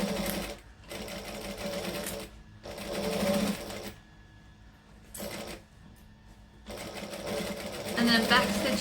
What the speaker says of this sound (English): And then just stitch around the lid piece.